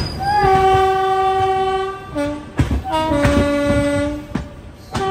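Andhra Pradesh Express train sounding its horn in long sustained blasts while running, with the rumble of the moving train beneath and short breaks between blasts.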